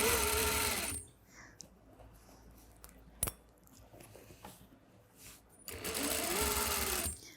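A sewing machine stitches the waistband of a quarter-circle skirt in two steady, close bursts: one at the start and a longer run near the end. Between them is a quiet pause with a single sharp click.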